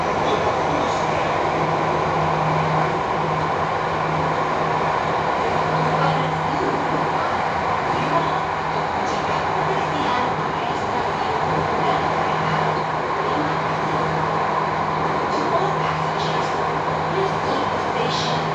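Jakarta MRT train riding toward Lebak Bulus, a steady loud rumble and roar of the moving carriage heard from inside throughout, with a continuous low hum.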